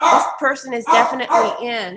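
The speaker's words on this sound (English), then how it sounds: "Sorry about the dog." A household dog barks and yips indoors, excited by gardeners working outside, its short bursts mixed in with someone speaking close by.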